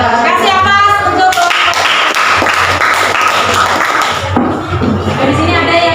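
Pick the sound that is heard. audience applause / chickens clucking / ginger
audience applause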